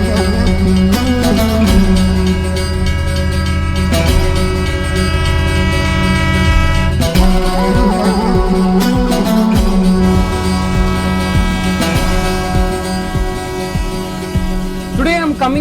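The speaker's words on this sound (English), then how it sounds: "Kashmir's all-weather glass train that has big windows and also a sunroof is a rage." A glass-windowed Vistadome coach with a sunroof runs through snowy Kashmir from Srinagar to Banihal: steady heavy rumble of the moving train throughout, with sustained horn-like tones rising over the din.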